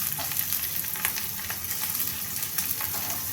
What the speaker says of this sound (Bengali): এবার আমি ভালোভাবে একটু ভেজে নেব